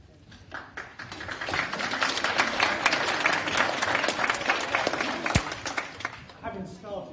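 A lecture audience at a university talk breaks into clapping that swells and then thins out, with a sharp knock partway through and a voice at the end.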